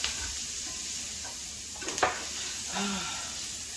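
Peppers and onions sizzle in a hot pan, a steady close hiss broken by a couple of brief stirring scrapes and a faint murmur of a voice.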